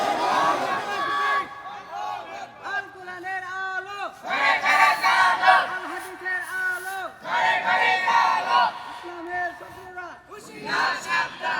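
A crowd at a Bengali religious sermon gathering shouts takbir in unison in answer to a preacher's calls, with loud massed voices rising in repeated waves and some chatter between the chants.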